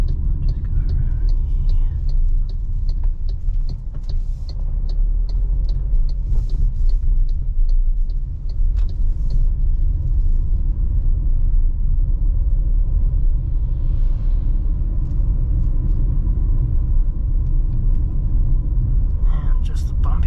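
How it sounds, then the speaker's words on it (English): A 2025 MG ZST 1.3 turbo with a six-speed automatic rolls over a bumpy road, giving a constant, loud low rumble of road and suspension noise throughout, with a voice speaking over it. "And just a bumpy road again, as always."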